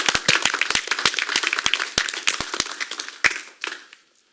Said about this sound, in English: Once again, round of applause.